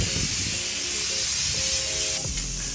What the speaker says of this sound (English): a light pull, and I've got a cone-shaped spray coming out